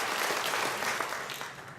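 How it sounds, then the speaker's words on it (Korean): A church congregation at a faith testimony retreat bursts into sustained applause, a dense wash of many hands clapping together that holds steady and slowly tapers off. "다시 한번 박수 더 드리겠습니다."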